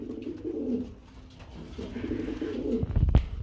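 Indian Babra pigeons coo in soft, low, repeated throaty phrases close by, with light background noise between calls.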